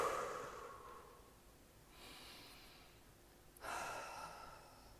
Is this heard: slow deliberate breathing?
yes